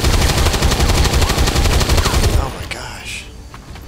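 Rapid automatic gunfire in the video game XCOM 2 rattles loudly in a fast, even burst for over two seconds, then cuts off into a fading tail as someone speaks a short exclamation.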